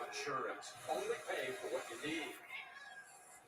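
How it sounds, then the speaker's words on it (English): A house cat meows several times up close, each call a short rising and falling wail in a quiet indoor room. "Hi, kitty."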